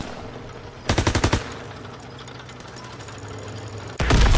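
Call of Duty WW2 gunfire rings out as a rapid machine-gun burst of about eight evenly spaced, loud, close shots, then a lull with faint distant firing before another heavy burst starts at the end.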